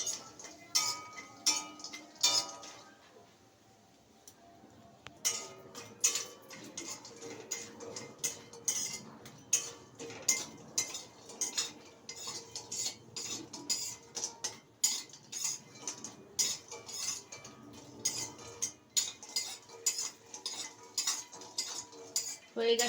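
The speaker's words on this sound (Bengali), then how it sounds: "বড়িটা ভেজে নিচ্ছি।" Bori lentil dumplings frying in oil in a wok are stirred with a metal spatula, making steady repeated clinks and scrapes against the pan at close range, with a brief lull early on.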